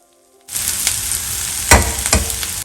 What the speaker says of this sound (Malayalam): ഈ സവോള ഒത്തിരി ബ്രൗൺ ആകണ്ട, നന്നായിട്ട് സോഫ്റ്റായിട്ട് കിട്ടണം.